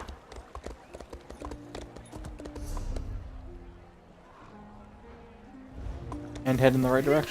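Rhythmic clip-clop of horse hooves from the video game Elder Scrolls Online, with a voice talking over it and a brief louder burst near the end.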